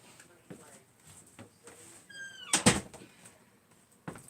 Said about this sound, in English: I'm going to shut the door to my room